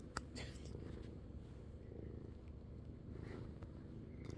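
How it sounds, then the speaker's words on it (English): A cat purrs loudly and continuously right up close, a soft rhythmic rumbling drone with a couple of faint clicks over it and no talking. "I don't know if you can hear him, but he's just purring super loud"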